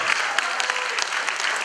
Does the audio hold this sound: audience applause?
yes